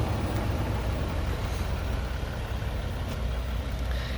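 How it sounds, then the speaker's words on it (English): A 2020 Toyota Sienna SE's V6 engine idling, a smooth steady low rumble heard up close with a faint broadband hiss, unchanging for a few seconds and without talk. "That V6 is running smooth"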